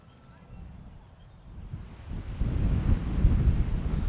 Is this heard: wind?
yes